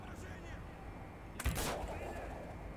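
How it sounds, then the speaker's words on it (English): A single sharp gunshot rings out in the war shooter Call of Duty: Black Ops, a short loud burst over a low ambient rumble, with no other shots around it. "Gunfire's drawing attention."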